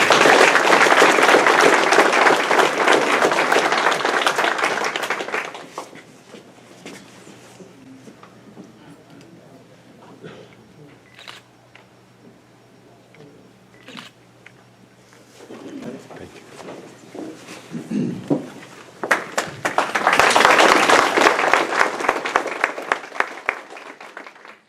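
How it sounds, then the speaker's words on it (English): Audience applause at a sheriff's awards dinner, a loud sustained round of clapping that fades out, followed by a quieter stretch of room noise and talking before a second strong wave of applause swells up near the end. "Give these people a round of applause."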